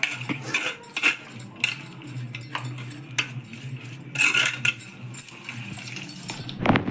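Boiled pasta tossed with salt and ginger-garlic paste, irregular light scrapes and clinks of a spoon against a pan, close and fairly soft.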